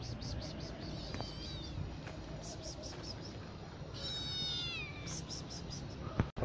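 A mother cat and her kittens meow several times, thin high calls rising over a soft, steady background hum at moderate distance.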